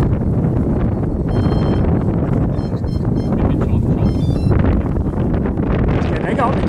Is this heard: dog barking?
no